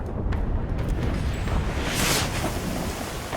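Ship cannons fire during a naval battle in a video game, a heavy booming burst swelling mid-way over continuous rumbling wind and sea noise, loud and without voices.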